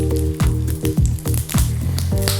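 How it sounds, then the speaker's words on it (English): Bell peppers blister and sizzle in a hot frying pan, a steady close crackle with repeated soft pops and shifts as the peppers move, over a low background hum. "So while I'm blistering these beautiful peppers"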